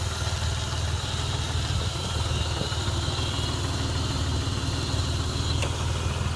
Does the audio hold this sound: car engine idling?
yes